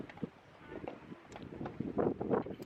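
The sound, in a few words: wind blowing outdoors in Canada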